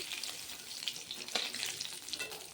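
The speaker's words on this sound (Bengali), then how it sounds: "ওই তেলের মধ্যে আমি দিয়ে নেব ফোড়নে কালো জিরে" Nigella seeds fry in hot oil for tempering, giving a faint, steady hiss with light popping crackles scattered through it.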